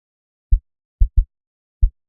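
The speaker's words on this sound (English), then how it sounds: "Only sub kick," A MIDI sub kick drum plays alone, four deep low thumps with an uneven spacing, two of them close together, each short and booming with no other sound around it.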